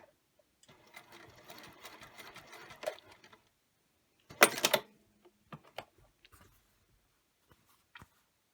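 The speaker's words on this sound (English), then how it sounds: "this is where I'll sew over a little bit" A sewing machine stitching cork fabric runs in short bursts of rapid mechanical clatter, a longer run, a pause, then a louder burst and a few single stitches.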